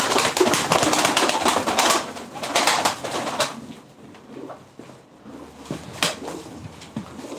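Crested white pigeons coo softly amid fluttering and rustling, with scattered sharp clicks and knocks close by.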